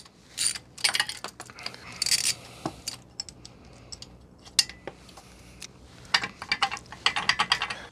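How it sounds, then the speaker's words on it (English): A ratchet with a 12mm socket loosens bolts on a Honda NC750X motorcycle exhaust manifold, giving several bursts of rapid, close metallic clicking separated by short pauses. "Now we need a 12mm socket."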